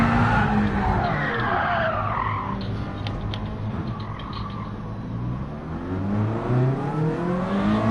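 Race car tires skidding and squealing in Gran Turismo Sport, a loud sweeping screech over a droning, revving engine that holds throughout.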